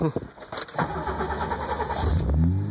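A 1986 BMW 325i with a five-speed and a new Greddy muffler cranks and fires up, its starter whir giving way to a rumbling, rising engine note, close by and with a voice speaking over it.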